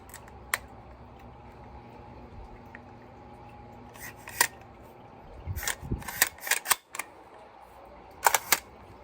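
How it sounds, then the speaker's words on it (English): A Black Ace Tactical Pro Series S Max shotgun is reassembled, the bolt slid onto the receiver and the pin pushed back in, making a series of sharp metallic clicks and snaps, sparse at first, then clustered near the end. "Bolt just go on the receiver and putting that pin back in"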